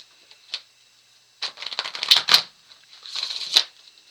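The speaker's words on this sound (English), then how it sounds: "Okay, so now I need more cards. Guess I'll shuffle." Tarot cards shuffled by hand close up, with a single soft riffle, then a busy run of crisp flicking and slapping card edges, and another shorter burst at the end.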